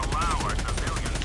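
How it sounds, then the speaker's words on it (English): Explosions and gunfire in the video game Helldivers, a dense barrage of rapid blasts under a warbling tone, loud and continuous through the short stretch. "I hear a lot of explosions."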